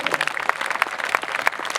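Audience at a Hindi kavi sammelan poetry gathering in Udaipur claps for a poet, a thin, scattered patter of hands with uneven individual claps, moderately close and steady for a short stretch.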